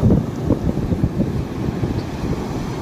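Sea waves wash onto a beach, heard as a low, uneven surge mostly buried under heavy wind buffeting the microphone, with no voices.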